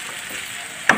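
Onions sizzle in a hot pan, a steady hiss of frying. A short utensil scrape or stir lands near the end.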